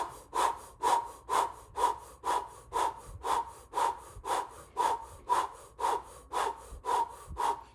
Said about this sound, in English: Now we're going to do 45 seconds rapid mouth breathing.